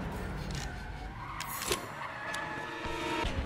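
A car driving in the Resident Evil 7 video game, its engine running steadily throughout with a brief skidding scrape in the middle, with no voices over it.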